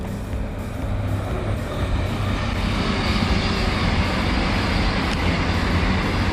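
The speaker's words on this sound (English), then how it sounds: "we're right by the railway line, and here comes a train past us" A train rumbles past steadily beside the railway line near the A55 North Wales Expressway, a broad continuous roar of wheels and engine that holds at a constant loud level throughout.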